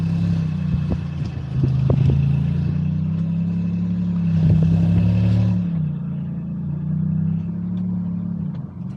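A car reverses out of a parking lot, its engine idling in a steady hum with a couple of swelling revs and light clicks, close and unaccompanied by talk.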